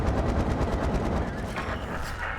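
Rapid autocannon burst in World of Tanks, a dense string of evenly spaced shots rattling loudly and steadily through the whole stretch with no pause, close and heavy.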